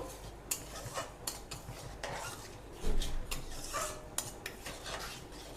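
A spoon stirs tomato and date chutney with sugar in a pan over low heat, making quiet, irregular scrapes and light clinks against the metal, with a faint sizzle underneath and no voices.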